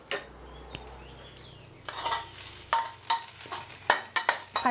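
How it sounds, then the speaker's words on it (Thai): Thai curry paste sizzles as it is stir-fried in a pan, a soft frying hiss overlaid with repeated scraping and clinking of a utensil against the pan, becoming more frequent and louder toward the end, close and without talk. "ผัดพริกแกงให้หอมก่อนค่ะ"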